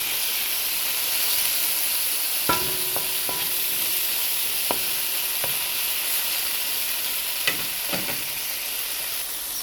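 Chopped tomatoes fry in a pan with a steady, close sizzle and hiss throughout, punctuated by a few sharp clinks and taps of a utensil stirring against the pan.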